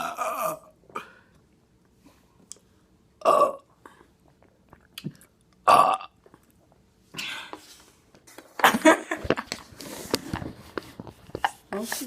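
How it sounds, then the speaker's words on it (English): Loud burps from people drinking Coca-Cola, several separate belches spaced a few seconds apart with quieter gulping and shuffling between them and a busier stretch near the end. "we're going to be doing a burping video"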